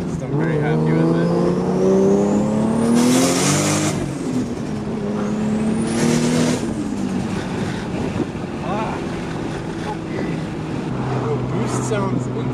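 A Toyota Supra MKIV turbo engine on a dyno during high-boost pulls, loud and close, with revs climbing in long sweeps, two sharp boost spikes and a settling drone afterward; a voice talks over parts of it.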